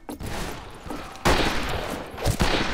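Gunfire in the Western multiplayer shooter Fistful of Frags: a dense stretch of overlapping shots, with a loud sharp blast in the middle and more bursts near the end, heard close and loud.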